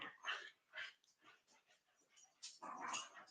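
Two dogs play-fighting in rough, combative play give a series of short growly barks, yips and whimpers in uneven bursts, fairly close and moderately loud.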